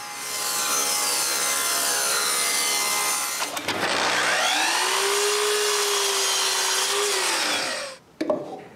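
A small wooden box lid, for a mahogany and maple box, being cut to size with a saw: a steady, loud run of rasping strokes with a brief break partway through, then stopping abruptly.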